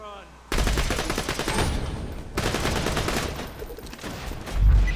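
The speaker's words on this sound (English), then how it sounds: "This slag pistol is actually a pretty high damage pistol." A slag pistol in a video game fires in rapid bursts of sharp, loud shots layered over explosions and battle noise, with dense overlapping gunfire throughout.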